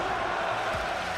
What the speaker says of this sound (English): And here, once again, there is the crowd behind them.